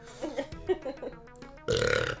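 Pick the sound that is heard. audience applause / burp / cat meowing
burp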